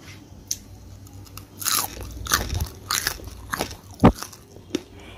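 Crispy fried pakoras made from leftover rice being bitten and chewed up close, a handful of sharp crunches and crackles spread over a few seconds with quiet gaps between, no talk.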